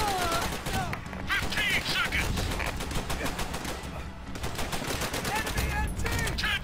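Rapid bursts of Japanese machine gun fire in the Call of Duty: World at War battle, dense and continuous with overlapping shots and shouted voices throughout.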